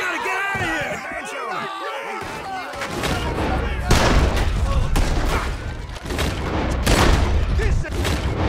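Gunfire in the Red Dead Redemption 2 video game: a loud, dense barrage of shots and booms fills the scene after an opening stretch of shouting voices, continuing heavily and close to the end.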